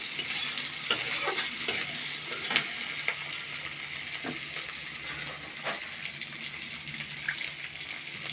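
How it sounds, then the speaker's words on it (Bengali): Chopped tomato fries with amudi fish in hot oil, a continuous close sizzle broken by scraping and clinking stirs against the pan, no voices. "টমেটোটা একটু ভাজা ভাজা করে নেব"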